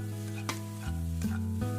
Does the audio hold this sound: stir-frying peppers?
yes